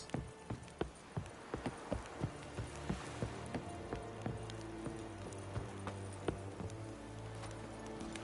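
Hooves clip-clop in a steady galloping rhythm as a horse runs in The Witcher 3, close and evenly paced with faint ambient sound underneath.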